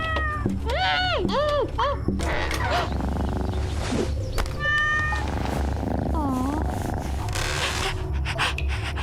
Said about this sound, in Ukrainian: Гей, тут знизу. Це я. Я кіт.